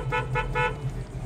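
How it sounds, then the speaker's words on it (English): Horn of a 1972 Chevrolet Chevelle SS, three short honks in quick succession, fairly near and clear inside the car. "horn"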